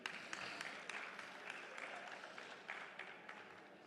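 Conference audience applauding in a hall as a speaker is welcomed, steady dense clapping that holds for several seconds at moderate, fairly distant level with a faint voice underneath.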